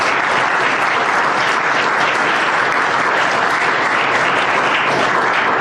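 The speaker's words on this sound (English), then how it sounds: "So I want to have everyone give you a round of applause." Loud, dense applause fills a hall at a League of Women Voters candidate forum, a continuous roar of clapping from a large audience that stays steady for nearly six seconds.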